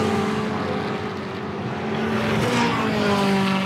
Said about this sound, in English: it's been backfiring and popping and banging